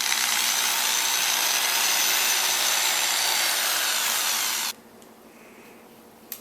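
A power drill bores into a pumpkin with a loud, steady whirring grind that holds for several seconds, then cuts off abruptly, leaving near silence and a small click.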